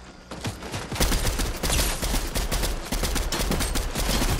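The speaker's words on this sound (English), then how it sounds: "Oh, no, you don't start shooting at me" Heavy gunfire from the video game Fortnite, a dense, continuous fusillade of rapid shots and bursts that stays loud and close throughout without any talk.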